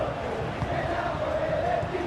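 Steady roar of a stadium crowd in the Football Life 26 football game, a dense continuous wash of massed voices at even loudness throughout, with no commentary over it.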